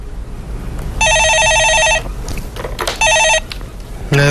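A telephone for a radio stock-market call-in show rings twice in bright electronic trills, each about a second long, with a quiet room in between and a short tone at the end.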